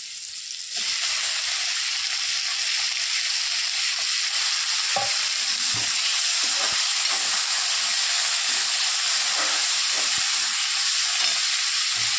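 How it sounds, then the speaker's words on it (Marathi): Tomatoes hit a hot pan of cauliflower and potato curry base, setting off a loud, steady broadband sizzle that swells within the first second and holds unbroken, with occasional soft clicks and spatters. "आता टाकत आहोत टमाटा"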